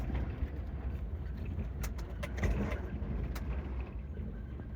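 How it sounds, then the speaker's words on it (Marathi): A Suzuki Carry's engine labours steadily while climbing a hill in second gear, a continuous low droning hum from inside the vehicle with some light rattles and clicks over it. "पळय कितें पावर पळय सुझुकी कॅरीचो. गाडी सेकंडान आहा आनी चडटी आहा ही पळय."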